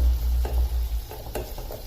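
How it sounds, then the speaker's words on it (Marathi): Chopped green chillies fry in hot oil for dahi mirchi, a short burst of sizzling with low rumbling and a few quick stirring scrapes. "आता छान तेल सुटेपर्यंत याला परतवून घ्यायचं"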